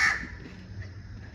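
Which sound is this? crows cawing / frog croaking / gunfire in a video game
crows cawing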